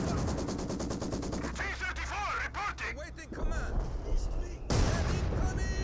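Rapid machine-gun bursts rattle in a Company of Heroes 2 World War II battle, with an MG-34 firing a fast, sharp stream of shots, then scattered gunfire and explosions under a commentator's voice.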